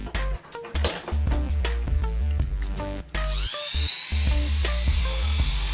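An Oster Turbo A5 single-speed hair clipper switches on partway through and settles into a loud, steady, high-pitched motor whine over busier background sounds.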